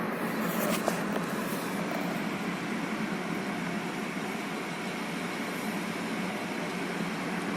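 A car engine humming steadily from inside the cabin while driving in traffic and shifting up into fourth gear, a constant droning rumble with a faint brief change near the start, no speech.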